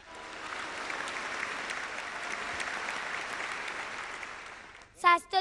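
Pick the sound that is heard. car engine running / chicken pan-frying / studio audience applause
studio audience applause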